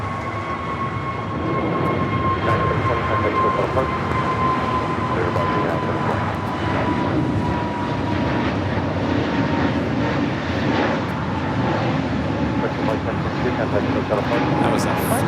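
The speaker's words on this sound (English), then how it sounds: "That was a flight heading to Phoenix, Arizona, that A320 NEO." An Airbus A320neo jet departs Los Angeles airport for Phoenix, Arizona, with a steady, moderately loud engine roar and a sustained high whine, and faint radio chatter from air traffic control sits underneath.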